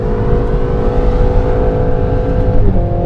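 A Renault Mégane RS engine drones loudly and steadily as the car crosses the line on a race circuit, with a high sustained engine tone that shifts slightly near the end.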